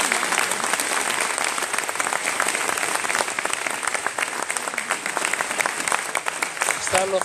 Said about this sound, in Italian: farei un grande applauso.